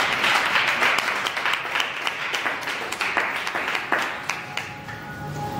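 Congregation at a church service applauding the Lord, a dense, steady wash of many hands clapping throughout, close and fairly loud with no one speaking over it.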